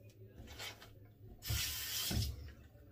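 A 1955 ball end Gillette Tech vintage safety razor is rinsed under a running tap, with soft, close water splashes that swell into a fuller gush midway and then fade.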